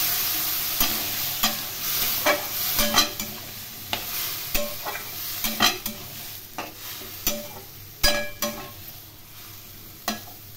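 Cauliflower sautéing in a pan with a tomato, ginger and red chili paste and a splash of water, steady sizzle broken by repeated scraping stirs, close and moderately loud, no talk.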